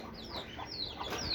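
Hens in a backyard poultry coop cluck softly at a distance, a few short rising calls over faint ambient noise, with no one speaking.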